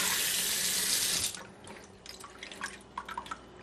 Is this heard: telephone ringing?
no